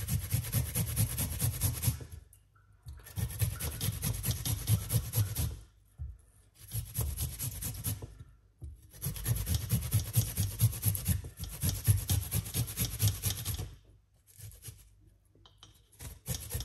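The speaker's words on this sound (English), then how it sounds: "grate the ginger." Fresh ginger grated by hand, heard as close, loud rhythmic rasping scrapes in five long bursts separated by brief pauses.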